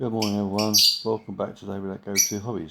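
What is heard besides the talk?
birds calling outdoors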